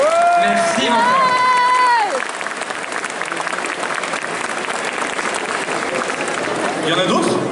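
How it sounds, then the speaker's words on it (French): Loud audience applause with some cheering at a cosplay contest, starting under a held sung or shouted voice that fades after about two seconds, then continuing as a sustained crowd clapping to the end. "On l'applaudit très très fort."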